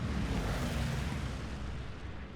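A distant explosion in the World War II shooter Hell Let Loose on Omaha Beach near Vierville-sur-Mer, a low, rolling rumble that lingers and slowly fades, fairly faint and with no voices.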